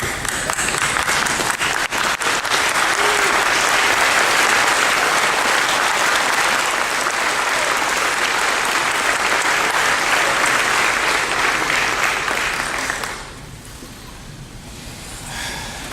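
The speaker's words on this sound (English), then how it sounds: "how about if everybody stands up and applauds each other" Large audience at a prosthetics and 3D-printing conference applauds while standing, a dense, loud, sustained wash of clapping that runs about thirteen seconds before dropping sharply to a quieter room murmur.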